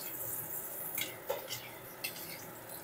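Cut potatoes frying in oil in a kadai, with a continuous faint hiss of sizzling and a few soft clinks and stirs of a utensil against the pan, quiet and close.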